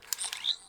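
A Doctor Who 15th Doctor deluxe sonic screwdriver toy gives a brief electronic effect, a few quick clicks followed by a short rising whistle-like chirp, close and fairly quiet.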